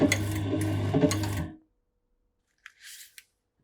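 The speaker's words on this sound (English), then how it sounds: "for the final step, I'm going to round the corners with my machine" A corner rounding machine trims the corners of a soft cover Coptic-bound pocket journal, with a close mechanical whir and punch followed by silence and a second short crunch.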